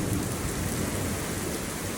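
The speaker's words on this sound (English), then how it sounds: "this storm's actually kind of strong" Strong thunderstorm with steady heavy rain and rumbling thunder, a loud, continuous wash of rain noise with low rolling thunder beneath, close to the microphone, no talking.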